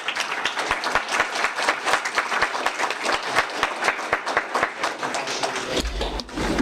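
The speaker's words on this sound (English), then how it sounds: "let's give Dan one more round of applause" A meeting audience gives a round of applause, moderately loud with individual claps distinct and rhythmic near the front, fading out after several seconds.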